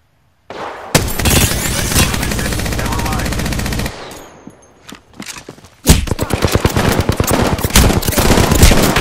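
Loud close gunfire in Apex Legends on PS4 Pro, a sustained automatic burst, a short lull with a voice, then a rapid rattling stream of shots continuing to the end.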